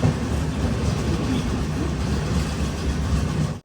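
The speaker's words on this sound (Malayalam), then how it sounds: "തിരൂർ റെയിൽവേ സ്റ്റേഷനിലേക്ക് നമ്മുടെ ട്രെയിൻ എത്തിയിരിക്കുകയാണ്" A Yesvantpur–Kannur Express train rolls into Tirur railway station with a dense, continuous rumble of wheels and carriages, loud and close, with no voices over it.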